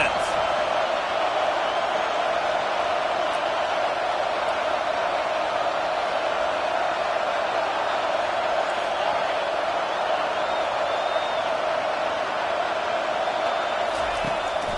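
Stadium crowd roaring in a Madden football video game, a dense steady wall of cheering that never lets up, with a voice talking over it.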